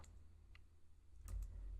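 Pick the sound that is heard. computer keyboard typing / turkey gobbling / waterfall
computer keyboard typing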